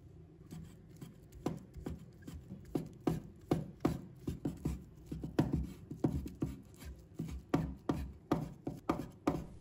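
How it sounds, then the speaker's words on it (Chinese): A knife chops soaked, squeezed-dry shiitake mushrooms into small pieces on a board, with quick, steady, crisp strokes repeated throughout at close range. "把泡好的香菇控水捞出，挤干水分，把它切成小粒"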